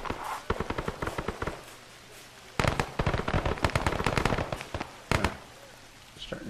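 Gunfire with tracers in the military game ARMA: rapid automatic bursts and sharp cracks in several loud clusters, close by, with rumbling between the volleys.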